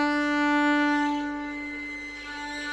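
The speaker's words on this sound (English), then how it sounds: "if you go towards the bridge, it's gonna sound like this" Violin bowed too close to the bridge: one sustained, glassy, overtone-heavy note held steadily and fairly loud, fading slightly toward the end, with no voices.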